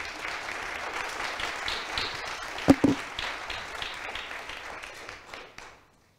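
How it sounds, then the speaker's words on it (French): An audience claps to welcome a speaker at a live innovation event, moderate applause with a couple of sharp louder claps near the middle before it thins out and fades to silence. "Vous pouvez l'applaudir bien fort."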